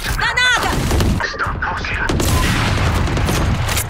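A grenade blast in the Valorant shooter game, a loud booming explosion followed by rumbling, crackling debris and gunfire-like bursts, with a voice calling out over the noise.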